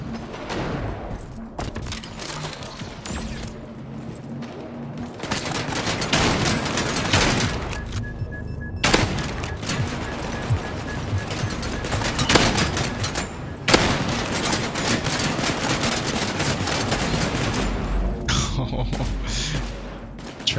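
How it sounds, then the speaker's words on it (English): Shotgun blasts from the Wormhole Wars alpha game fire repeatedly in a dense, loud barrage, sharp booms punching through ongoing game noise and a talking voice. "That's a shotgun."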